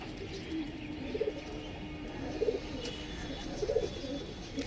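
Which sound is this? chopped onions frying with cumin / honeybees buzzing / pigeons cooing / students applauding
pigeons cooing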